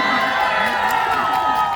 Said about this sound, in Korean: 박수 한 번만 쳐주세요